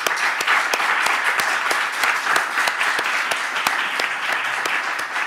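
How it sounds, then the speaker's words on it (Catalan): Audience applause at a Catalan academic conference day, steady dense clapping from a seated crowd with a few sharper individual claps standing out, holding at an even level throughout. "aplaudir-les."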